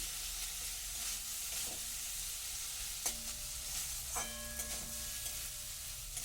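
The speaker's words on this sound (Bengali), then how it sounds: "আলুটাকে মশলার সাথে একটু কষিয়ে নেব" Potatoes frying with spices in a pan for a bitter gourd dish give a steady close sizzle throughout, broken by a few sharp clicks and a faint tone near the middle, with no talk.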